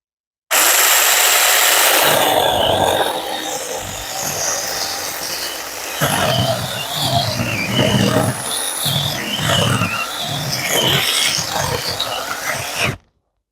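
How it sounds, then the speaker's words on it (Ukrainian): A small Makita cordless pruning saw hums steadily while its blade rasps back and forth through tree branches in rhythmic strokes, close and loud. "тепер пилка буде різати. Буду різати ось такими рухами"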